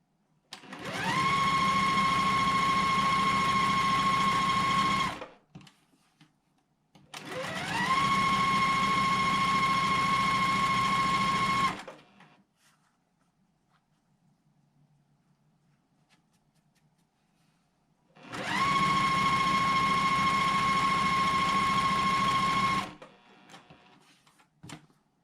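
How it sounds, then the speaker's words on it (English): A sewing machine stitches red plaid quilting fabric in three long, steady, loud runs separated by quiet pauses, close by and with no talking. "I'm going to stitch on both sides of that line paired with this red plaid"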